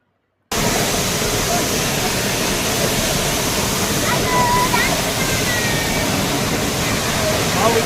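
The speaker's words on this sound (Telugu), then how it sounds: "వాటర్ ఫాల్స్ చాలా చాలా బాగున్నాయి." Waterfall at the Ellora caves in heavy rain, a dense, steady roar of falling water that runs continuously and loud from just after the start, with faint voices briefly audible under it.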